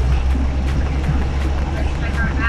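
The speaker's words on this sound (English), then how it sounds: "Okay, let's do our engine run up." Small single-engine piston airplane running up at 2000 rpm with the parking brake set, a steady loud droning engine roar throughout with a faint voice underneath.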